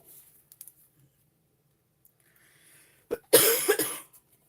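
A single harsh cough bursts out near the end after a mostly quiet stretch with a few faint clicks.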